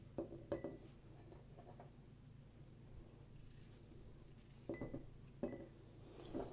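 Garlic cloves, cut into thirds, dropping into a half-kilo glass jar while making pickled thin peppers, giving a few short, close glassy clinks in two small clusters with quiet pauses between.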